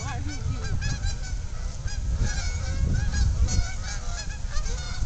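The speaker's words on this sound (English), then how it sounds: "There's some geese there." Geese honking near a river lock: loud, repeated honks overlap in a busy flock chorus that carries on steadily throughout, with no one talking.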